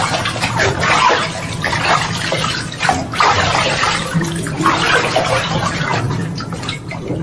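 Water pours steadily and loudly from a tubewell-pumped shower bath, a continuous rushing splash that fills the whole stretch with no talk.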